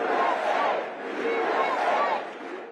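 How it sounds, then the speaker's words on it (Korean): A crowd at a conservative political action conference cheers and roars as Donald Trump steps onto the stage, a loud, swelling wave of cheering that rises and falls twice. "보수 정치행동회의 행사연단에 도널드 트럼프 미국 대통령이 등장하자 환호가"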